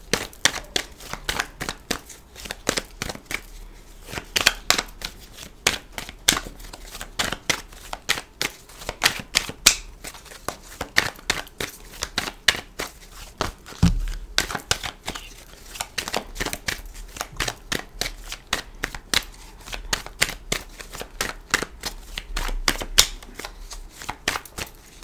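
Oracle cards shuffled by hand for a reading give a long run of close, rapid papery riffles and flutters in uneven bursts, with no talking.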